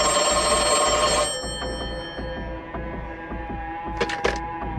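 A telephone rings loudly and continuously for just over a second, with a dense metallic bell tone, then fades into a steady hum with faint clicks and a brief burst of higher jangling near the end.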